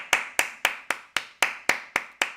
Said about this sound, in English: Let's give a clap to the homie.